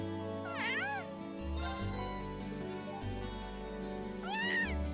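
A cat meows in the video game Trails of Cold Steel, two clear rising-and-falling meows, one early and one near the end, set over looping game background music.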